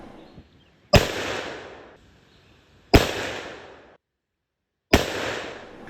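A muzzleloader rifle loaded with Fire Star pellets fires three loud, sharp shots about two seconds apart, each with a booming report that rings out and decays over roughly a second.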